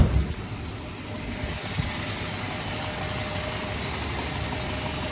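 A 1994 Toyota pickup engine idles steadily and smoothly at close range. The low, even rumble carries a faint ticking texture and continues without pause.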